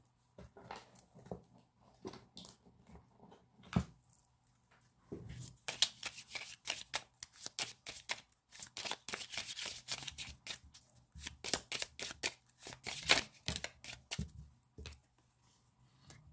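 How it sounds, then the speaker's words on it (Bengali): Tarot cards are shuffled and drawn by hand, giving bursts of dense papery riffling and flicking. The sound is fairly close but quiet, with scattered softer handling sounds around it and no talk. "লাস্ট আমি দেখে নেবো এখান থেকে কটা কার্ড নিয়ে"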